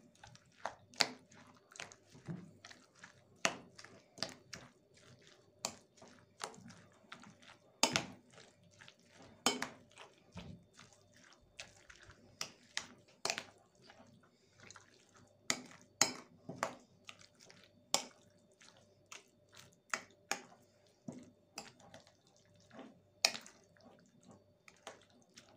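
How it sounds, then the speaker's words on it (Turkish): Celery salad being stirred in a bowl, with a spoon clinking and scraping against the dish in a steady run of short, sharp taps and soft wet squishes, close and fairly quiet, no voices. "Hemen kasemin içerisine ekliyorum. Ve iyice karıştırıyorum."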